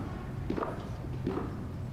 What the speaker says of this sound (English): We can hear the footsteps of VP-elect Harris coming down the stairs from the crypt.